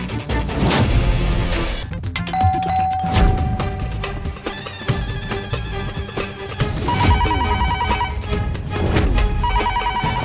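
A home telephone rings on and on without being answered, its bell tone sounding steadily beneath a loud, busy music score.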